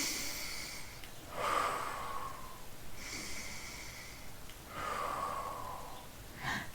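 Heavy breathing during a core and pelvic floor exercise: three long, forceful breaths spaced a couple of seconds apart, each a breathy rush, close to the microphone, with no talking.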